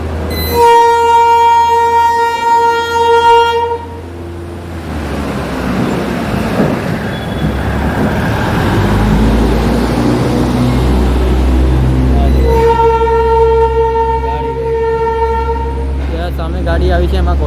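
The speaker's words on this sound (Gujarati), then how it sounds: "ગાડી આવી છે એમાં કોલસો ભરીને આવી છે" A coal-laden freight train pulls into Vadodara railway station, its horn blaring in long loud harmonic blasts at the start and again near the end, with heavy rumbling wheels and rail clatter rolling through between them, close and loud.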